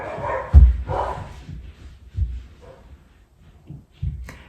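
Dogs let out a few scattered barks and yips in a home, soft and somewhat distant, separated by quiet gaps.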